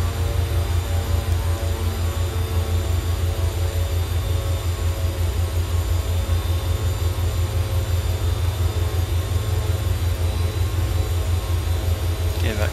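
A Beech Duke BE60 engine runs at about 2,000 RPM in the FSX flight simulator, a constant loud droning hum with a pulsing low rumble that stays unchanged throughout.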